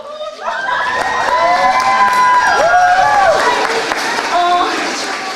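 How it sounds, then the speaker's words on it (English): School theater audience cheering and clapping for seniors after their final show of Radium Girls, loud shouts and whoops swelling over applause throughout, with excited voices calling out. "Please round of applause to our seniors at their last show."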